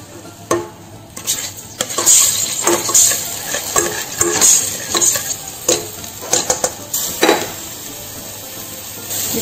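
Garlic-ginger paste frying in sizzling oil as a spoon stirs and scrapes against a pan, with occasional louder clinks and scrapes throughout.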